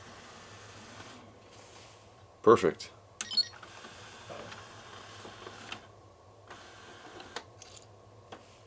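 Stereo CD tray mechanism being tested after a repair for sticking, with a sharp cluster of clicks and motor whirs near the start, then scattered lighter mechanical clicks; a voice speaks briefly.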